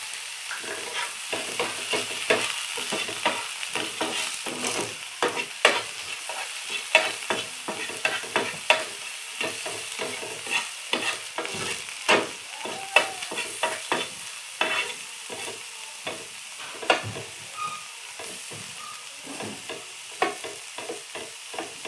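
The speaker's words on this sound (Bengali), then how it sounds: "কাঁচা লঙ্কা আমি ঝিরি ঝিরি করে কুচিয়ে নিয়েছি, একটু সাঁতলে নেব" Finely chopped green chillies are sautéed with salt in a pan: a soft, steady sizzle with frequent sharp clicks and scrapes of a spatula stirring against the metal.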